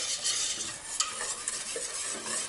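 A whisk beating thickening pastry cream in a pan, quick continuous scraping and swishing strokes with occasional sharper clicks of the whisk against the side.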